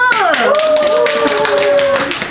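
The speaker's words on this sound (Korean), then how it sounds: "박수!" Hosts on a student radio show clap briefly, quick close taps of a few hands mixed with a gliding tonal voice or jingle sound and some talking.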